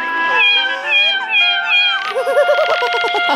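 Synthetic, warbling meows from a duck in the video game Haunt the House repeat over a steady electronic tone, rising and wobbling in pitch; the cat-like calls are loud and close, with no talking.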